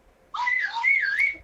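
A single close whistle, clear and medium-loud, rising and wavering in pitch for about a second before cutting off.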